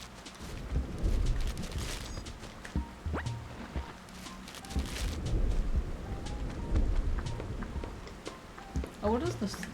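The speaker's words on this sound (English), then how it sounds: "But sometimes it just rains." Rain falls in the Animal Crossing video game with a steady patter and low rolling thunder, while a person talks over it.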